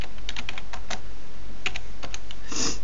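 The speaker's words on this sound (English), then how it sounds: "I'm going to type enable." A computer keyboard clicks under quick typing of commands while a network switch is being configured: a short burst of close, light keystrokes over a steady low hum, with no talking.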